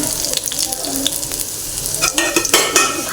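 Shallots and curry leaves frying in hot oil, stirred with a utensil against the pan: a steady close sizzle with scraping strokes that turn busier and louder toward the end.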